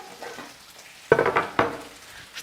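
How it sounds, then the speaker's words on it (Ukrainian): Potatoes fry in a pan with a soft background sizzle, broken by a few sharp clatters of a utensil against the pan. "Картопля, вон бачу, смажиться прикольно."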